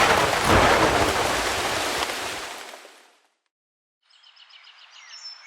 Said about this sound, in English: It's supposed to rain tonight.